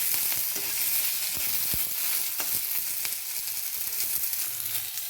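Gravy ingredients sautéing in a pan, cooked down until soft: a loud, continuous crackling sizzle of frying throughout, with occasional sharp pops and a few stirring scrapes, no voices.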